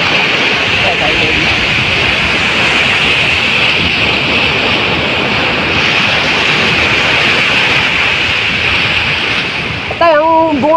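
A wide river flows in a steady, loud broadband rush, continuous throughout, with a brief voice near the end.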